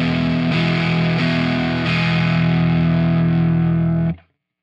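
A sustained, heavily distorted electric guitar chord through a Fender Tone Master Pro with a 59 Hz low cut, with a few restrikes adding bite before the sound stops abruptly near the end.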